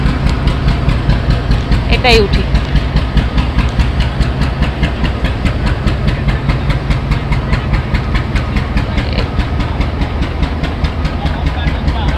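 A DEMU passenger train idles at a station on the Agartala to Sabroom line, its engine giving a steady, close, low rumble that holds unchanged throughout.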